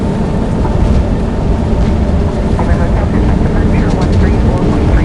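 An Airbus A380 jet roaring down the runway on its takeoff run with thrust set, a loud, steady, broad engine rumble that fills the whole clip without a break.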